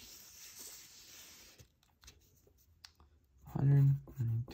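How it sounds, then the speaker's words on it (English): Pen or marker writing out an algebra equation for a rectangle's area, a soft scratchy stroke sound running steadily for a couple of seconds before a short louder knock or thump near the end. "So let me just write that down quickly."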